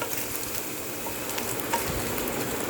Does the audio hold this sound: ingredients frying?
yes